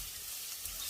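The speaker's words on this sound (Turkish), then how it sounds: "Soğan ve biberimiz kavruluyor." Chopped onions and peppers frying in a pan for Turkish menemen, giving a steady, dense sizzle close up with no voices.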